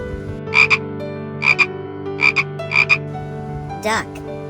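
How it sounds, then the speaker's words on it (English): A frog croaks in four paired, rhythmic bursts over a steady low hum, loud and close, followed by one brief rougher call near the end. "Frog."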